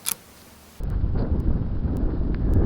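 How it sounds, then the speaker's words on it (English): After a brief quiet moment, strong wind at a lake buffets a budget action camera's microphone, a loud continuous low rumble that persists to the end. "It's very windy."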